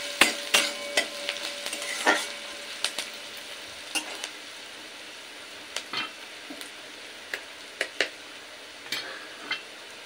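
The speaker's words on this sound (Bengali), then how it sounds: "এইবার দিয়ে দেবো পেঁয়াজ কুচিটা। পেঁয়াজ কুচিটা একটু লাল করে ভেজে নেব।" Chopped onion frying in oil and being stirred to brown, a continuous sizzle broken by repeated scraping strokes of a spoon against the pan, close and fairly loud, with no talk.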